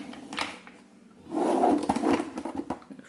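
A drawer of a makeup storage unit holding foundations slides open or shut. A faint knock comes first, then a close, scraping rumble with small clatters lasting under a second.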